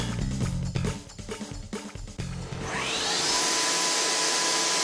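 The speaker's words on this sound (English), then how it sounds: "let's have a look at finish face milling with the Speed Finisher" A BIG DAISHOWA Speed Finisher face mill on a Big Plus BT30 spindle takes a finishing pass on 5052 material at 6,500 feet per minute. Low machine rumble with clanks gives way to a steady, loud, bright cutting hiss with a high whine.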